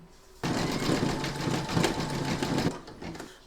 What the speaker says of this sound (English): you're going to stitch round number 10